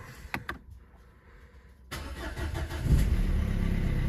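A Renault Scenic 3 with the 1.5 dCi diesel, just back from an oil and fuel filter change, gives a few faint clicks, then cranks and catches near two seconds. It settles into a steady, close, loud diesel idle.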